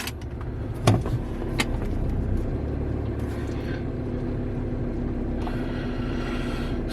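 Volkswagen Touareg with air suspension, engine idling steadily as a continuous low hum, with a brief click or thump near the start and some faint mechanical rustle, no talking.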